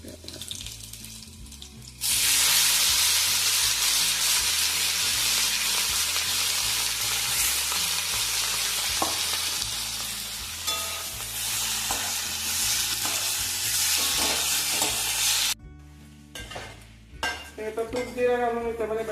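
Grated potato sizzles and spits in hot ghee with cumin and green chilies, a bright frying hiss that swells suddenly and runs on under steady background music, with scraping and stirring near the end.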